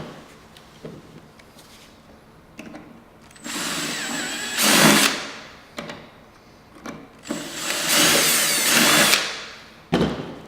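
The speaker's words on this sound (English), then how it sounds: "it's time to drill" A power drill whirs in two sustained bursts, several seconds each, biting into material, with quieter handling clicks in between.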